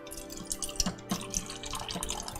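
Kangen water is poured, giving a close, quiet trickle with scattered drips and splashes that lasts a couple of seconds.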